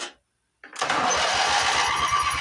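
Abandoned Craftsman GT lawn tractor with choke applied: after a moment of silence the engine cranks and catches, settling into a loud, steady, thumping run.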